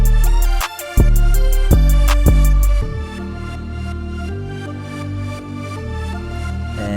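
An 808 bass from a GarageBand iOS drum kit with increased attack booms under a trap beat. Several deep hits with punchy onsets land in the first three seconds, then a sustained bassline continues under the synths, loud and with no voices.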